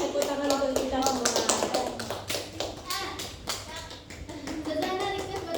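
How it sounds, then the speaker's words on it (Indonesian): A group of children in a classroom guidance session clap their hands in short rhythmic bursts, with children's voices chanting and talking over the claps. "tepuk tangan untuk kita semua"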